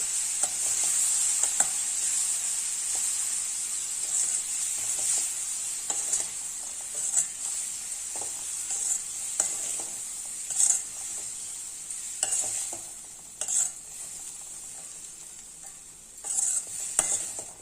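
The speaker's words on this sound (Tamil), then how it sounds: "ஆஃப் பண்ணிவிட்டு லேசாக கிளறி விட்டுறேன்." Coconut mango sundal being gently stirred in a pan with the heat switched off: a spoon scrapes repeatedly and irregularly against the pan, close and clear, over a faint steady hiss and with no talking.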